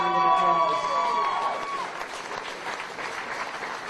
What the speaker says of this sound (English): if you can give her a round of applause.